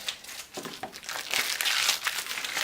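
Close, continuous crinkling and rustling of cellophane wrap being handled on a manual Speedstar 1 cellophane wrapping machine, rising and falling in loudness with no talk.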